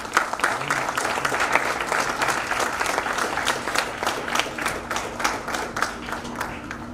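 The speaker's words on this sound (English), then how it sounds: "So let's have a big round of applause please." Sustained applause at a professional network's conference meeting, many hands clapping steadily at moderate volume for several seconds, with individual claps standing out near the end.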